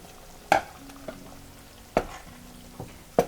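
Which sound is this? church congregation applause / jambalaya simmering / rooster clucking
jambalaya simmering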